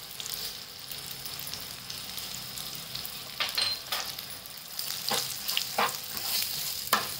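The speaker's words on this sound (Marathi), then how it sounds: "गॅस सिमवर करायचं, हलवून घ्यायचं, चांगलं परतून घ्यायचं मिरच्या याच्यामध्ये." Green chilies sauté in a pan over low heat with Kashmiri red chili powder, spices and salt, giving a soft continuous sizzle broken by clinking scrapes as they are stirred.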